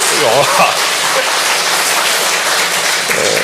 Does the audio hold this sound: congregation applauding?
yes